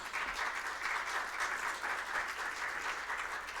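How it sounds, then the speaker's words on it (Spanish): Church congregation clapping together at a worship service, a steady, even wash of applause from many hands, sustained at moderate level throughout with no voices standing out. "Dele un aplauso a la gloria de Dios"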